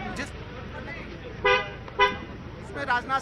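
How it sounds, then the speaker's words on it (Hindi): Short car horn toots, two clear blasts and a quicker double honk, sound over the steady rumble of a motorcade arriving with Rajnath Singh in Rajasthan, while a voice talks throughout. "गाड़ी आ रही है"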